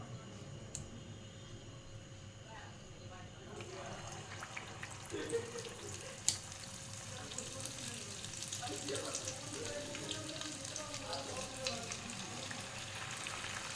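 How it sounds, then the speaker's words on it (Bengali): Chicken drumsticks dropped one at a time into hot oil set a steady, low frying hiss going, with a few brief clinks and bubbling bursts over a constant background noise. "তেলটাকে গরম করে নিয়েছি। এবার আমি চিকেনগুলোকে একটা একটা করে এর মধ্যে দিয়ে দেবো।"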